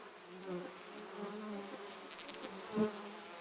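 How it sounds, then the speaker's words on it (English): Honeybees buzz steadily in a dense, close drone around a hive during the waggle dance, with a slightly louder swell near the end. "This is the waggle dance."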